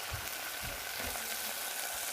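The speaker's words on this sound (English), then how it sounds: "Okay, so it's sizzling." Cheese laid straight into a hot, ungreased pan, melting and sizzling with a steady close hiss and a few soft low pops underneath, no voices.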